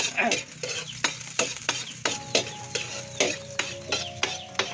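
Garlic fries in a pan in a simple farm kitchen. A steady sizzle runs under regular scraping stir strokes about every half second, close and fairly loud, with no talking.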